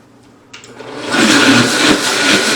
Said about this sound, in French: passez-le au mixeur comme moi je vais le faire